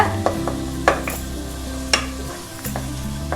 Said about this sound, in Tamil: தக்காளியை ஆட் பண்ணதுக்கு அப்புறமா ஒரு 2 நிமிஷம் இதை நல்லா குக் பண்ணிக்கோங்க